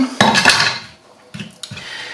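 A sharp kitchen knife knocks against a cutting board as an onion is set down and cut, giving a loud clatter followed by two softer wooden taps, close and with no talk.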